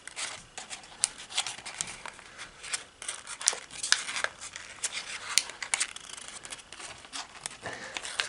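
Square origami paper is folded and crumpled close up, giving a string of dry crinkles, rustles and sharp crackles in irregular bursts, with no talking.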